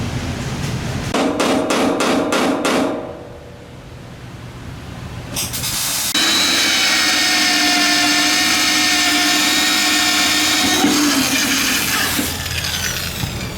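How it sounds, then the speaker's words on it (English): A heavy power drill whines loudly and steadily, preceded by rapid hammering bursts and a brief lull before the drill spins up. "It goes pretty quick with a big drill."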